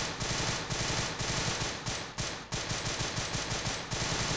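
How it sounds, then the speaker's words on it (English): Sterling L2A3 Mark IV submachine gun in the ARMA 3 Vietnam mod firing sustained automatic bursts, a steady rapid rhythmic chatter of shots with brief pauses, loud and close, no talking. "This is a beast-sounding fucking SMG."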